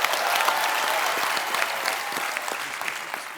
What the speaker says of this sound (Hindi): धर्मेश के लिए जोरदार तालियां यार।